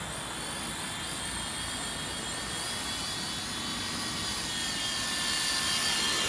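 A Sky Dancer single-blade toy helicopter taking off and flying, giving a steady high whine and buzzing rotor hum that grows slightly louder toward the end, with no voices.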